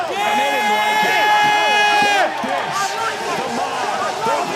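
SlamBall arena crowd being hyped up, with loud, steady roaring and cheering, a sustained horn-like tone that cuts off midway, and sneaker squeaks on the court beneath the din.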